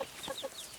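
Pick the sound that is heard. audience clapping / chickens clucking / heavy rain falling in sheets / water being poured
chickens clucking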